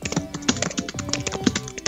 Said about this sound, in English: we can still hear you typing